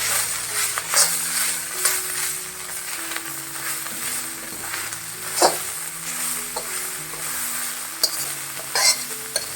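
Chicken fried rice with green onion whites is tossed and stirred in a sizzling pan, soft frying hiss under repeated scraping and clattering of a spatula against the metal.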